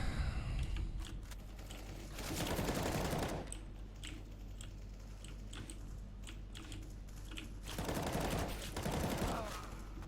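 Gunfire in a CS:GO free-for-all deathmatch, with bursts of automatic shots at the start, in the middle and near the end, separated by quieter stretches of scattered shots and game noise.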